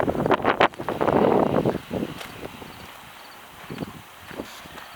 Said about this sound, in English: it's super windy today, so hopefully you can hear me